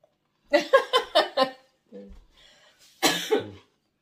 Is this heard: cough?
yes